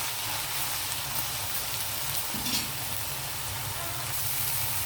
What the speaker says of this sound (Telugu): ఉల్లిపాయలు కొంచెం వేగనిద్దామండి.